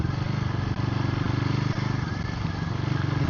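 A Guerrilla 450 cc motorcycle rides along with a steady low engine drone and rapid rhythmic exhaust pulsing, loud and constant under heavy wind rush, with faint voice at most.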